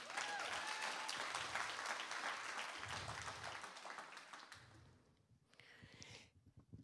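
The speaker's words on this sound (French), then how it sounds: "Ça vaut des applaudissements pour Jésus." A church congregation applauds for Jesus, a sustained wash of clapping that gradually fades and thins out, ending in near quiet with a few scattered claps and faint voices.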